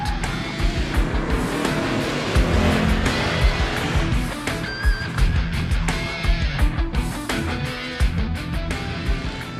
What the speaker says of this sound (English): scare and thrill co-worker Emma Churchill in the factory's Series 4 Aero 8.